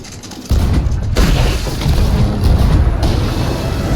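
Heavy ship cannon fire in a pirate video game, galleon combat: deep booming blasts hit at about half a second and again near one second, followed by a sustained rumbling roar of continued bombardment, loud and close.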